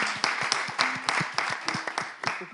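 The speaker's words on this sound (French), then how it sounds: "On applaudit Ève." A small audience claps for the presenter Ève, scattered individual hand claps in an uneven rhythm, close and fairly light, with no voices over them.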